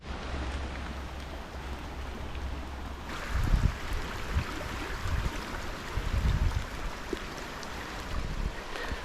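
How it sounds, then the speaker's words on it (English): River water runs steadily through an S-bend meander pool in winter, a continuous close rushing wash that swells in a few louder surges, with no voices. "here's a pool where the main flow is going through the middle of this S-bend, the meander"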